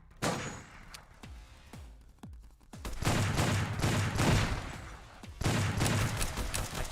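Rapid gunfire from a VR shooter video game: sharp separate shots in the first seconds, then dense sustained bursts of automatic fire with brief pauses, loud and close.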